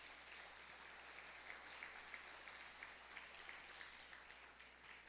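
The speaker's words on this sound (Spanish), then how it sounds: "Dale un aplauso al Señor por eso." A church congregation applauds the Lord, a dense, steady wash of many hands clapping that carries through the whole stretch at an even, moderately loud level.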